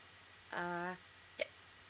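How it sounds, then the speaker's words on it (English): A single hiccup lands sharply at close range about halfway through, then a second, shorter hiccup follows a moment later, with quiet room tone between them and no talk. "Hopefully the hiccups will go away before I start singing or anything."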